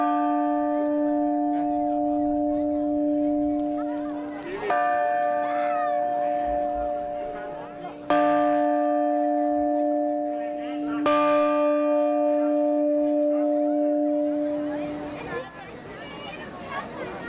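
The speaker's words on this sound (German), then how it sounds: "dürfen die Glocke mit dem Klöppel anschlagen, bevor sie auf den Turm transportiert wird" A new church bell for a parish church is struck by hand with its clapper before going up the tower, four loud ringing strikes each decaying slowly, with crowd chatter in the background.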